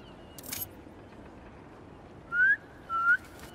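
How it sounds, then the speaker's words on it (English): Two clear whistled notes in the Spider-Man 2 video game, short rising tones about half a second apart, heard after a faint earlier click over quiet ambience. "Try a whistle."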